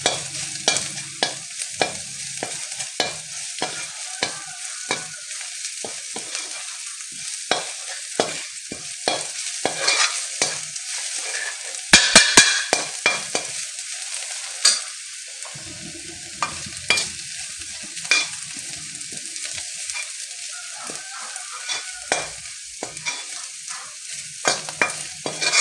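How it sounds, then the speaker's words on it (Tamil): Ingredients stirred and dry-roasted in a pan until evenly maroon, with a steady close sizzle broken by frequent sharp scraping strokes of the spoon, a busier clattering burst near the middle, and no talk. "எல்லா இடத்துலையும் ஒரே சமமாக நமக்கு ரோஸ்ட் ஆகும்."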